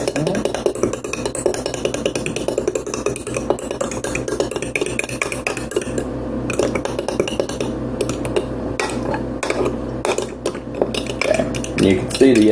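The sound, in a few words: beating and mixing egg mixture for French toast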